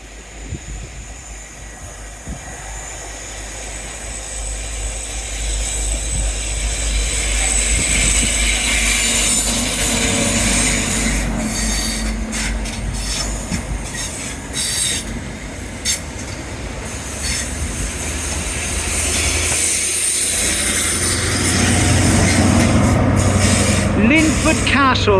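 A train runs along the seawall by the sea, a loud rolling rumble with squealing wheels and rattling that swells as it passes close by and keeps going.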